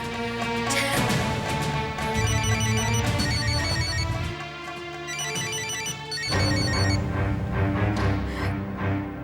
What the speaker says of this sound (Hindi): मैं फोन कर रहा हूँ।